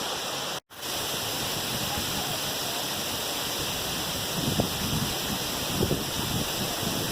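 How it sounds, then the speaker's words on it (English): Steady broadband rush of a sandstone-side waterfall beside the Blue Earth River, a continuous close roar with a brief dropout near the start and a few soft splashes toward the end. "these waterfalls and stuff, they're right next to the river"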